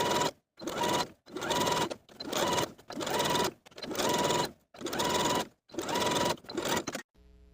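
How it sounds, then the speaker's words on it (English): Sewing machine running a narrow zigzag stretch stitch along the hem of pull-on pants, in eight steady bursts of fast stitching separated by short pauses, close and clear with no talk. "I can sew close to this upper inside edge using my preferred stretch stitch. I'm just going to use a narrow zigzag stitch."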